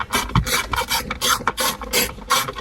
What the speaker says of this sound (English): We have a size 8 millimeter to be able to undo the 2 bolts that are holding this